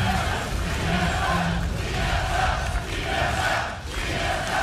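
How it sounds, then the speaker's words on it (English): A large arena crowd at a League of Legends esports match, Team SoloMid against Complexity, roars and cheers in a loud, sustained wash of voices that swells and dips slightly. "Hear the crowd."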